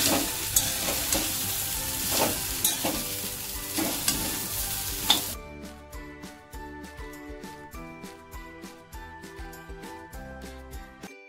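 Potato slices stirred and fried in a pan, a dense sizzle with scraping strokes for the first half, then a quieter stretch of regular clinking stirs that repeat at a steady pace.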